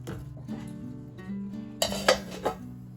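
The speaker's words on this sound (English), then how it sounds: "Then I move to fluffing of the couscous. I separate the grains from each other. I use fork to do it." A metal fork scrapes and clinks against a pot while fluffing cooked couscous grains, soft scraping followed by a few sharp clinks near the end.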